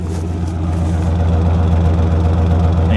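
A pickup truck engine with a new exhaust system idles steadily and loudly up close, a low rumbling drone that holds even throughout with no revving.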